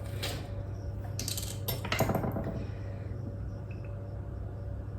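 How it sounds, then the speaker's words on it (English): A vanilla extract bottle lid is twisted off, giving a short cluster of faint clinks and small scraping rattles over a steady low background hum. "I've got a teaspoon of vanilla extract, if I can get the lid off"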